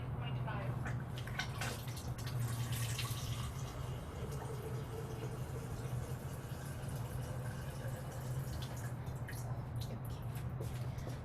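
A Kangen water machine dispenses pH 9.5 alkaline water as a faint, steady running stream that continues throughout, with quiet talk over it.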